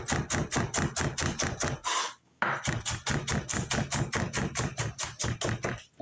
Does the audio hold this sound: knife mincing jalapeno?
yes